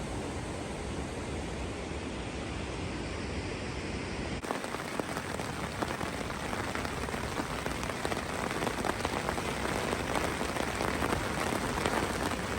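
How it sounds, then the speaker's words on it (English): Heavy rain pours onto a tent at a campsite on an Alaska hunt, a dense continuous hiss of drops that grows slightly harder after a brief shift partway through. "It's pouring down rain, and we're just kind of hunkered underneath our tent here."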